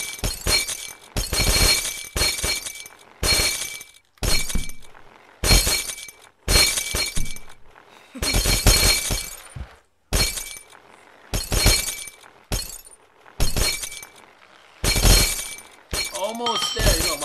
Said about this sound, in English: That's how we break glass.